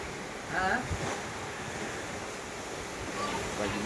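Ocean waves wash onto the shore in a steady broadband rush, with wind noise buffeting the microphone, and a faint voice is heard briefly.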